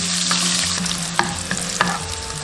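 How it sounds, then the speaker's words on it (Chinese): Garlic whites and ginger slices stir-fry in hot oil in a wok, giving a loud, continuous sizzle punctuated by several clicks of a spatula against the pan. "再用蒜白姜片炒香"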